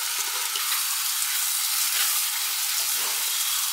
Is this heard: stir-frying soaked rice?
yes